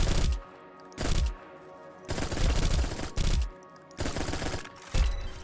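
Gunfire in the video game Echo Point Nova, with sharp loud bursts of rapid automatic shots in repeated clusters about a second apart, each cut off by short pauses, with no talk over them.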